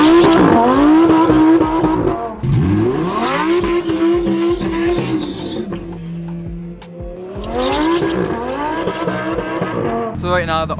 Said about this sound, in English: the R34 and the R32 are gonna race